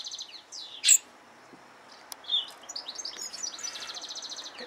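A hand-reared baby robin gives a few short, high chirps and tweets at close range, scattered over a quiet background with brief gaps between calls.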